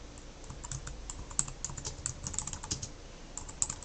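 Quick, light keystrokes clatter on a computer keyboard in a steady, uneven patter, close and fairly quiet.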